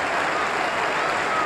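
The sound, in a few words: cricket crowd applauding departing batsman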